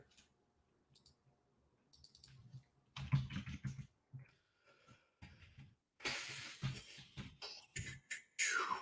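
Bursts of keyboard typing, rapid clicks in short runs separated by pauses, close and clear.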